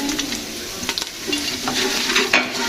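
Garlic-ginger paste and nihari masala fry in a pot with chilli and salt, sizzling steadily close up while a spoon stirs and scrapes in irregular clicks. No one speaks.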